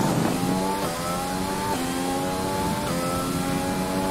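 A Mercedes Formula 1 car engine in the video game F1 2020 revs hard and continuously, its pitch climbing in stepped surges as it shifts through gears, loud and close with no voices.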